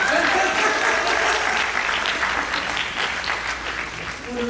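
An appreciation event audience gives loud, sustained applause for Devi, with thick clapping close by and a voice talking over it near the end.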